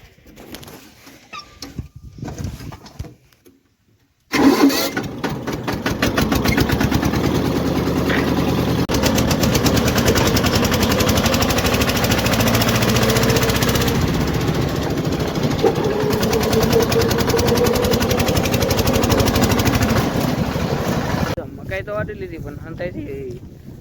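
A tractor engine rumbles to life on a farm and runs steadily and loudly close by for most of the stretch, with a voice speaking beneath it before cutting off near the end.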